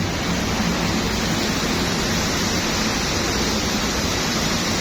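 Soybeans pour in a dense, unbroken roaring rush into a cargo ship's hold during loading at Santos port in Brazil, a loud steady hiss heard alone.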